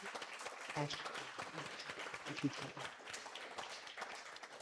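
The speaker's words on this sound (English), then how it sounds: "let's all, if we could, just give our panelists a round of applause" Round of applause from an audience for panelists at an AI business event, a dense patter of many hands that stays steady for the whole stretch, with a few voices mixed in.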